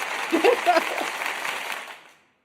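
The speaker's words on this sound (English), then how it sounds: "that's my cue to send the applause" A short burst of applause sound effect dropped into a live talk stream from a Thailand beach, a steady patter of clapping lasting about two seconds before fading out quickly to silence.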